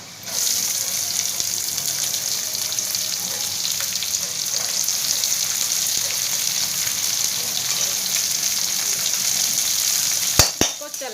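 Onions going into a pan where garlic and ginger have already cooked, giving a steady, close sizzling hiss of frying that holds at a constant level throughout, with a couple of sharp clicks near the end.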